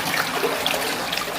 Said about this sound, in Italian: scorre acqua.